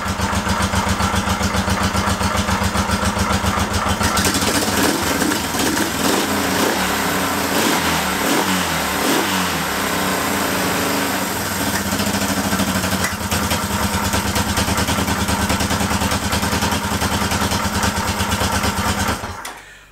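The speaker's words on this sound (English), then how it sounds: "that's still a very cold little engine, that's just started up" A cold Honda CL350/CB350 motorcycle engine runs just after starting, a loud, close, steady twin-cylinder idle with a rapid even pulse, its tone shifting slightly before it cuts off abruptly at the end.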